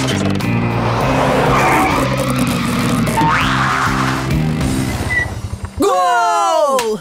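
A cartoon school bus skids with a long, loud tire squeal and rumbling engine, ending in a shrill, bending screech as it comes to a stop. Voices talk over parts of it.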